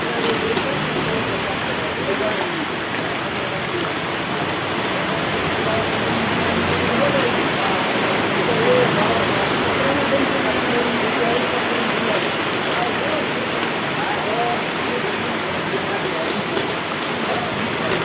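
Heavy rain pours down steadily in a broad, constant wash of noise that stays loud and even from start to finish, with no voices standing out above it.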